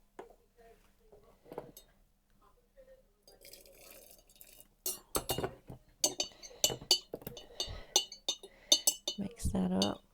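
Clinking stirs in a small glass jar as teal dye for lace is mixed, quiet at first then a run of rapid close glassy taps and rattles, with a voice talking over part of it.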